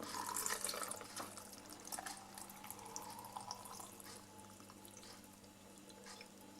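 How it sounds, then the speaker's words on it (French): Olive brine pours over a kitchen sink while black olives are being made, a faint, steady liquid rush with scattered splashes. It is loudest at the start and eases off gradually. "au-dessus de l'évier, reverser ma saumure, que je verse ensuite là"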